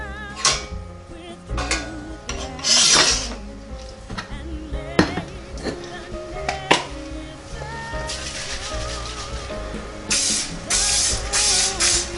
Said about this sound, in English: I'm going to get my cake pan sprayed with some cooking spray